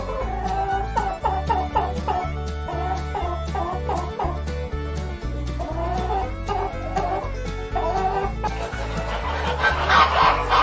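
A farm hen clucks in a steady run of short repeated calls, moderately close, with other farmyard animal sounds mixed in and a louder flurry toward the end.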